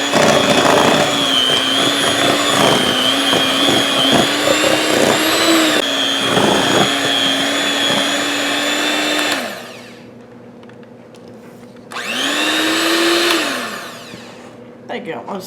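A hand mixer beats whipped topping and room-temperature cream cheese for a no-bake raspberry cheesecake, a loud steady whirring motor that drops out briefly, then revs again for a couple of seconds before stopping.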